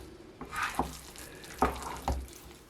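Pork and olive oil are stirred in a pot with a spoon, giving a few quiet, scraping strokes over a low, soft sizzle, with no voices.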